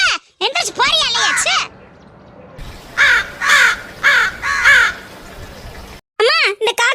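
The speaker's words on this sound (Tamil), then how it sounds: "அம்மா இந்த காக்கா உன்னை விட்டுட்டு போகாது போல." A crow in a Tamil cartoon caws loudly and close, in a quick run of harsh calls followed by a steady series of four evenly spaced caws and a final burst.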